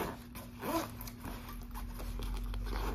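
Zipper on the front pouch of a Lululemon backpack being pulled, a few quiet scratchy zipping strokes close to the microphone over faint background hum.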